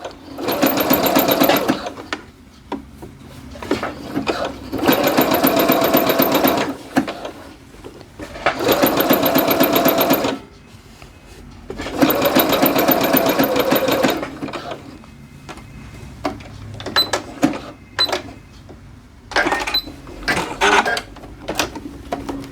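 Sewing machine stitching a reinforcement seam on joggers, running in four loud, steady bursts of a few seconds each with short pauses between, followed by scattered lighter handling clicks.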